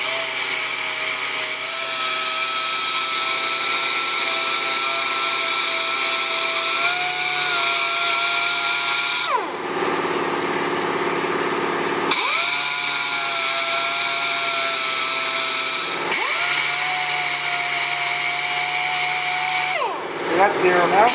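A pneumatic orbital sander runs loud and continuous with a high whine, its pitch dipping briefly as load changes, and it cuts out twice for a few seconds before starting again.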